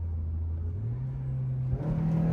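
A car pulls away and accelerates with a steady low engine drone that climbs slightly in pitch, then shifts to a rougher, louder rumble near the end; close and continuous with no talk.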